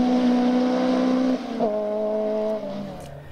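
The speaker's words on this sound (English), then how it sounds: "came Ross Carberry in the yellow Corsa" Yellow Vauxhall Corsa rally car driving a stage of the 2016 RSAC Scottish Rally, its engine note held steady, then shifting to a higher pitch as it revs on, loud and close with no voices.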